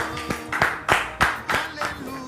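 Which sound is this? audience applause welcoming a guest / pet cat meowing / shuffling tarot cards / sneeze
audience applause welcoming a guest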